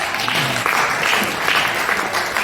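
Applause from a church congregation during a service, a dense steady patter of many hands clapping close by, continuous with no pauses and no voices rising above it.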